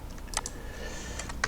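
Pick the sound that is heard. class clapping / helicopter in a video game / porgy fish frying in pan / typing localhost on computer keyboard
typing localhost on computer keyboard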